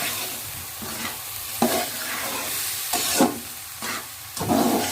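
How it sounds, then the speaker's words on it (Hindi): Chana dal roasts in a hot pan, sizzling steadily while a spoon scrapes and stirs it in several distinct strokes, close and clear. "मैं ये चने की दाल शामिल कर लूँगी और इसको भी मैं 2 मिनट के लिए भून लूँगी"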